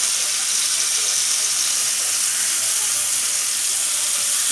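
Fish frying in masala gravy on a flat tawa, giving a steady, close, even hiss that carries unbroken throughout with no voices.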